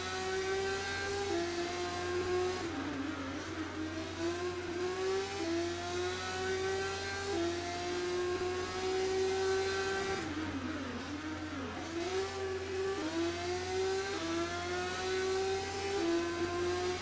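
A CGP3 race car on a qualifying lap in Russia, black and yellow Casey Jr. entry, its engine droning steadily with rising whines as it climbs through the gears, dipping briefly on downshifts around corners, continuous and close throughout.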